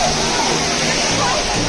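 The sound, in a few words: Juinagar waterfall rushing water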